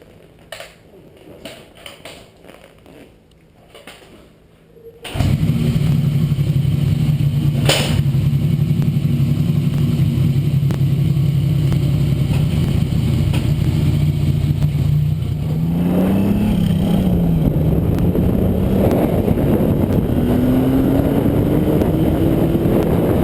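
A 1979 Yamaha XS750 motorcycle engine on a test ride with lean-running carburettors: after quiet rustling, a loud, close engine roars into a steady drone, then rises and revs higher toward the end.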